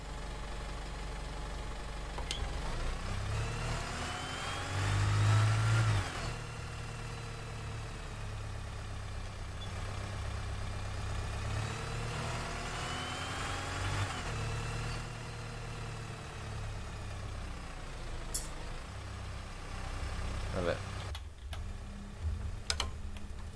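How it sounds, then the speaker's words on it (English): A bus engine idles in the OMSI 2 bus simulator game, a steady low rumble with light rattling ticks and a brief rise in revs partway through, with no talking. "Gently put the throttle on to stop the rattles the bus makes when idling."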